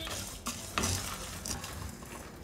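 Fenugreek seeds, coriander seeds and toor dal dry roasting in a pan for sambar, with faint scraping stirs and soft crackles, quiet and close, without talk.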